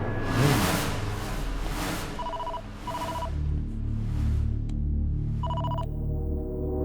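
A telephone rings in short repeated electronic double tones, three rings spaced over several seconds, heard over a loud, dense dramatic score with low rumbling.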